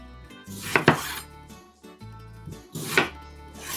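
A knife quarters tomatoes lengthwise on a board, two firm chopping knocks with a faint clink of dishes between them, close and clear with no talk.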